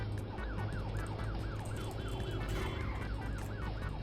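Wailing police car siren from a cheap GTA-style open-world video game, rising and falling in a steady repeating sweep, loud and continuous over low engine rumble and game background noise, with no talk.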